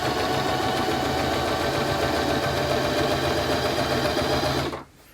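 A sewing machine stitching fabric for a face mask, running in a fast, steady whir and rattle close by, then stopping abruptly near the end.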